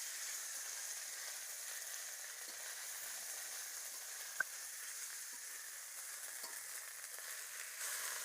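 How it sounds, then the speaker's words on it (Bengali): Ginger, garlic and cumin paste fries with browned onions in a pan, giving off a faint, steady hiss with one small click partway through. "আদা রসুন জিরা পেঁয়াজের সাথে একটু ভাজা নেব।"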